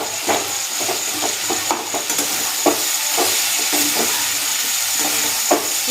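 Tomatoes fry with chicken masala in a pan, giving a continuous sizzle and hiss with repeated scraping and stirring clinks from a utensil, close and fairly loud, with no talk.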